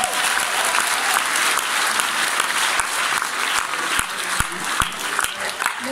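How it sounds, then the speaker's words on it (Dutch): Steady applause from a large audience fills a hall, dense clapping with a few sharper individual claps standing out. "onder het applaus van deze mensen in de zaal"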